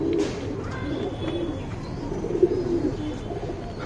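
Tournament racing pigeons cooing close by, soft low repeated coos over a light ambient hum, with a few faint chirps mixed in.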